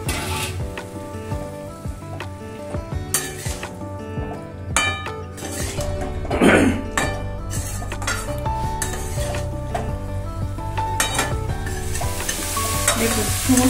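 Boiled potatoes and cauliflower florets frying with spices in a pan, sizzling steadily while a utensil stirs and scrapes against the metal in repeated clinks, close and fairly loud with no talking.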